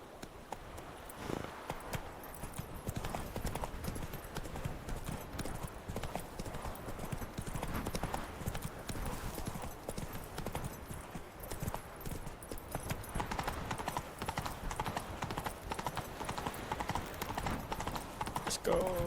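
Roach the horse's hooves clip-clop steadily through the Witcher 3 game world, a continuous rhythmic patter under background game ambience and a voice talking.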